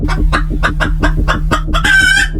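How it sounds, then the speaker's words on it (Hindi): A rooster clucks loudly and close by in a steady run of short, evenly spaced calls, then breaks into one drawn-out crow at the end, with no voices. "ये तो मुर्गा है"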